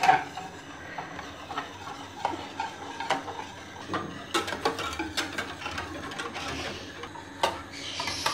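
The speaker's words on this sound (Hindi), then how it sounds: "इसको हम कॉन्टीन्यूस चम्मच चलाते जाएंगे और इसको हम कुक करेंगे" Spoon scraping and clinking in a pan as chocolate dessert batter is stirred continuously over a slow flame, with faint irregular taps and scrapes at close range and no talking.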